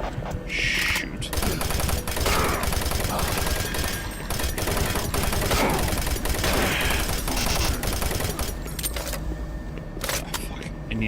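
Rapid automatic gunfire from the DOOM 3 video game rattles on continuously, loud and dense, with bursts layered over game noise and a voice briefly talking in the mix.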